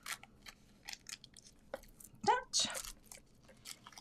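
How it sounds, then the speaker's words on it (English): Scissors snip through paper while a Halloween card is made, soft quick cuts and a crisp crunchy clip near the middle, close and quiet with light rustling. "I'll just cut some of the sides off here"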